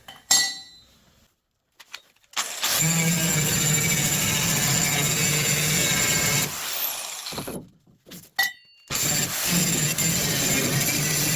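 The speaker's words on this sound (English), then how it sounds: "I'll grind a little bit off of that." An angle grinder removes metal from a plate while strengthening a Datsun 280Z chassis, a loud, sustained grinding whine in two long runs with short handling clanks and pauses between.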